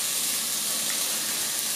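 Diced pork belly fries and renders slowly in a pan over a very low flame, giving a steady, close hiss and sizzle with no talk.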